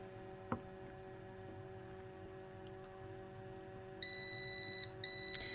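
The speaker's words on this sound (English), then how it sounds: "That's just the alarm because I opened up the incubator and some air got out." An egg incubator sounds its alarm after being opened, giving a steady electronic tone in two long bursts with a short gap between them. A low mechanical hum and a single click come before it.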